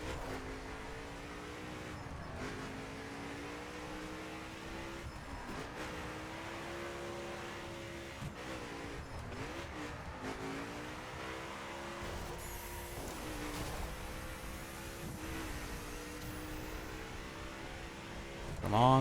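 A McLaren engine revs in The Crew racing game, a sustained rising and falling engine drone with gear shifts and a brief surge at the end, heard continuously beneath occasional talk.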